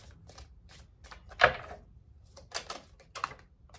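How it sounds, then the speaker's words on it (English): Quick papery riffling clicks of a deck of cards being shuffled, with one sharp, louder flutter partway through, fairly quiet and with no voices. "that was a terrible shuffle"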